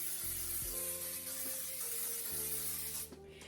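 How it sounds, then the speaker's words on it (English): Baking spray hisses steadily onto a cookie pan for about three seconds, a close, continuous aerosol spray over a faint low hum, then cuts off. "I'm gonna spray my pan."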